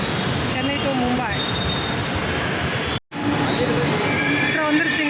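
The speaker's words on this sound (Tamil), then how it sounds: "மெட்ரோ வந்துருச்சுங்க." A Chennai metro train pulls into the station with loud rumbling and high wheel squeals, and a brief dropout mid-way, while people talk nearby.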